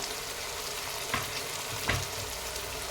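Chopped tomatoes fry in a pan for pulao, giving a soft, steady sizzle at low level, broken by two light clicks of stirring.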